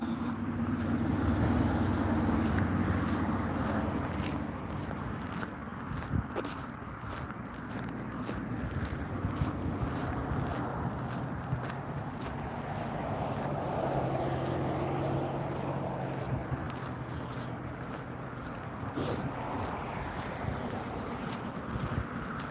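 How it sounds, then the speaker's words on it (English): Road traffic passes near an outdoor spot beside a road, a continuous low rumble of cars and trucks with faint wind and occasional nearby footsteps and handling sounds. "It's like the traffic noise."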